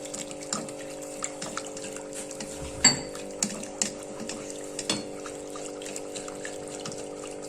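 Half a glass of milk poured into a pan for a béchamel sauce makes a steady, gentle liquid stream, close by, with a few light clinks of utensils against the pan.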